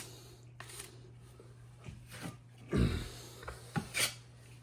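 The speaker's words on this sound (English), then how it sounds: "And we're gonna start scraping now." Drywall mud being scraped across a sheetrock patch in a low spot at a wall corner, heard as several short, rough rasping strokes close by, with the loudest scrapes coming in quick bursts and no talking.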